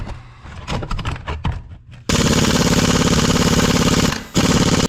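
A tight bolt is driven out of the clutch of a 2022 Ski-Doo Renegade 1000 XMR snowmobile, first with scattered knocks, then a loud, sustained rattling hammer of a power tool at close range with one brief pause.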